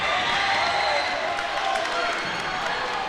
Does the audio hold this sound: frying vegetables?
no